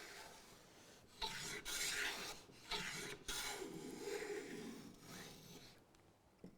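A hand plane shaving wood in long continuous strokes while making winding sticks, a close, breathy rasping hiss in several passes separated by brief pauses, with lighter scraping near the end.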